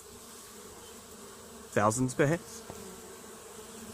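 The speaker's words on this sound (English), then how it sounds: "There's a huge amount of bees" A dense swarm of bees fills the air with a steady, continuous hum close around, feeding among flowers with a few moths nearby; someone speaks briefly over the buzzing.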